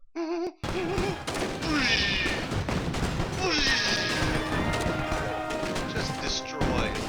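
Bazooka tower fire and explosions destroying tanks in the strategy game DomiNations: a dense, continuous barrage of booms, crashes and bursts of gunfire, loud and sustained, with a brief gap near the start.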